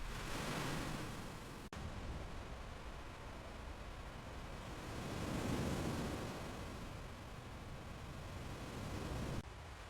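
Ocean surf rolls continuously onto the shore, a broad wash of noise that swells and eases, with wind adding to the hiss.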